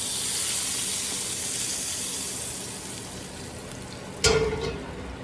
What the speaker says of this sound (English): We're going to just pour all of this delicious butter right on top.